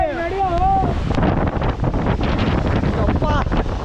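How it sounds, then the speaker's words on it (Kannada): Strong wind buffets the microphone near Hebbe waterfalls, a loud continuous roar filling the whole stretch, with a few high whistling tones near the start and end. "ಹೆಂಗ್ ಹೊಡಿತಾ ಇತ್ತು ನೋಡು ಗಾಳಿ."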